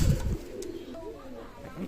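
A golden pigeon coos softly nearby, a low murmuring call under a brief thump at the start, with a voice around it.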